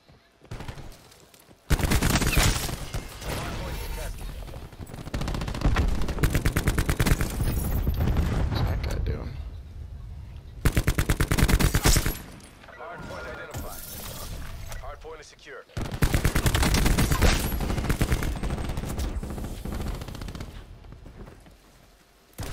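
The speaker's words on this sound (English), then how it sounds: "We're all getting shot right now." Rapid automatic gunfire bursts from the Call of Duty: Black Ops 4 video game in Hardpoint league play, loud sustained volleys broken by short pauses, with players talking over the shooting.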